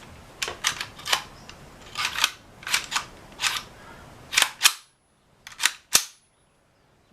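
Metallic clicks and snaps from the bolt and trigger of an AR-15 fitted with a CMMG .22 LR conversion kit, sharp and close, coming in uneven bursts of two or three with short pauses between.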